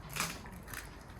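An arctic wolf crunches food in a short, quiet burst of crisp, crackling bites.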